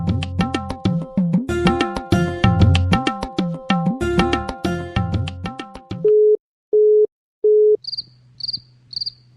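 After several seconds of loud, pulsing electronic chirping, a phone line gives three evenly spaced low busy-tone beeps, followed by three shorter, higher beeps over a faint hum.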